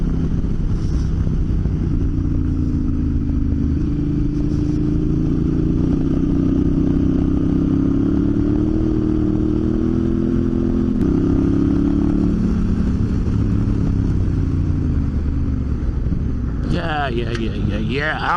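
A motorcycle rides along a road near Tamworth in steady, continuous engine drone with shifting pitch and loud wind rush throughout, close to the rider, with a brief clatter near the end.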